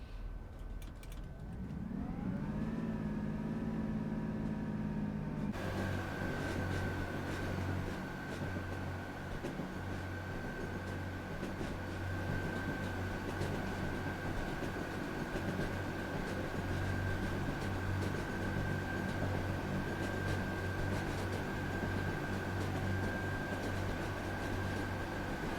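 A Class 150 diesel multiple unit runs in Train Sim World 3 on the Peak Forest Railway route, its steady loud engine drone rising as it pulls away, then settling into a continuous low running hum with a constant high whine.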